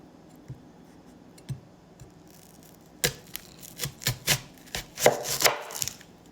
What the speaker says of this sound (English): I'm probably gonna cut just under half of the onion